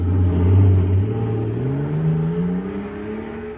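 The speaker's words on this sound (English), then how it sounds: "Listen to that fire-controlled jet car go now." A loud jet car engine roars and whines, its pitch climbing steadily as it revs up, a continuous powerful drone with a rising tone.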